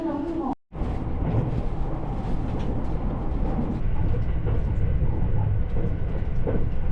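A loud, continuous rumble of a moving train in Japan, with a brief dropout near the start, then steady rattling and roar.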